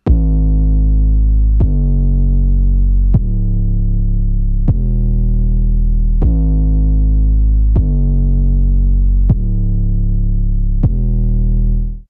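Distorted 808-style bass layered with a kick drum, a steady series of eight punchy thumps each followed by a long, buzzy sustained low tone, loud and played alone.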